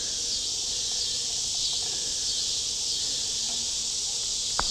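Honey bees from a small swarm hum in a steady, dense buzz from an opened hive during an inspection, close and continuous with no talking.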